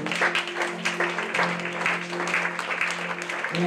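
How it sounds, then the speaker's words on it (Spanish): A church congregation applauding during a Spanish-language service, clapping mixed with a sustained low organ or keyboard chord, voices faintly through it, fairly steady throughout. "Vamos a dar un aplauso al Señor."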